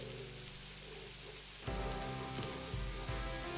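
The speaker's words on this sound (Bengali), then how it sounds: "আগে আদা কুচি, রসুন কুচিটা দিয়ে দিচ্ছি।" Chopped ginger and garlic hitting hot oil in a pan for a cheesy prawn fry, a loud sudden burst of sizzling that follows a quieter hiss and continues steadily.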